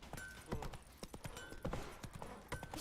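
Roach, Geralt's horse in The Witcher 3, galloping in the game, a quick run of sharp hoof clip-clops in uneven rhythm, close and clear, with faint background sound and no voices.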